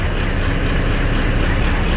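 A motorcycle engine idles with a steady, loud, low rumble close by, unbroken and with no voices over it.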